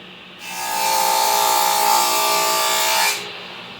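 A table saw cuts a raised panel into a wooden board, giving one steady, loud high-pitched whine that runs for about three seconds and then stops, with no talking.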